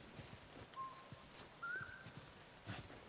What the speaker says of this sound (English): Is she whistling again?